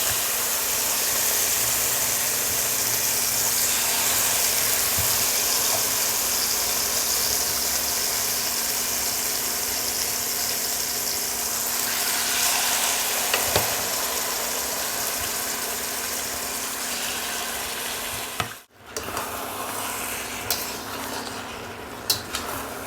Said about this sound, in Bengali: তেলের মধ্যেই ম্যারিনেট করা চিকেনটা দিয়ে দেবো